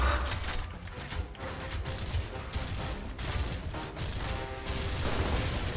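Pistol shots and gunfire in the Gears of War Ultimate Edition video game, a dense run of sharp cracks and mechanical clatter over constant game noise at steady loudness.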